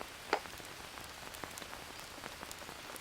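Rain pours steadily in a jungle survival game, a soft continuous patter of drops on surfaces with occasional sharper splashes, fairly quiet and with no voices.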